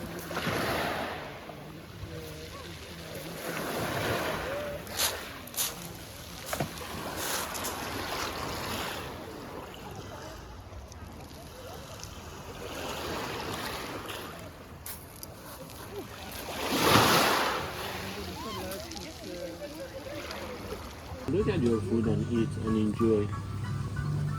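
Sea waves in Greece wash and splash nearby under wind noise, with people talking over the surf throughout.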